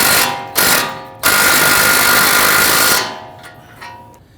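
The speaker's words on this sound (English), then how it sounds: "Using a 21mm socket, let's go ahead and snug down our tie rod end nut." A power tool fitted with a 21mm socket snugs down the outer tie rod end nut on a Dodge Charger with loud, close buzzing bursts: two short ones, then a longer run that stops abruptly.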